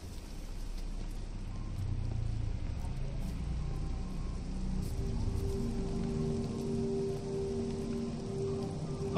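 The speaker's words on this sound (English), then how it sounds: "Oh, the rain's starting again." Rain falls steadily in the game Everybody's Gone To The Rapture, a soft even hiss with a low rumble beneath it, continuous and fairly quiet.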